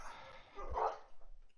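A dog barks faintly in the background, one or two short muffled woofs with a whimpering edge, heard well behind a low room tone.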